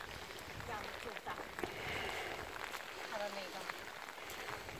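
Steady rain patters and hisses on surfaces nearby in a misty mountain oolong tea village, a dense wash of drops continuing throughout.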